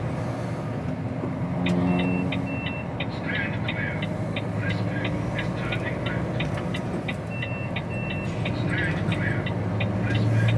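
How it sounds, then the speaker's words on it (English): UK HGV container truck with a trombone exhaust pipe, a steady low engine drone from the cab on a dark early-morning drive, with repeated ticking like an indicator and a voice in places. "Got a trombone exhaust pipe."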